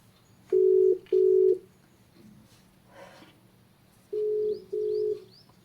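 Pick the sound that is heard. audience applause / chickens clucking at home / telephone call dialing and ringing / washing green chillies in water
telephone call dialing and ringing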